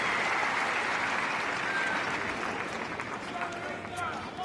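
A tennis crowd at the Apia International Sydney applauds in steady, dense clapping that fills the whole moment, with a commentator's voice faintly beneath.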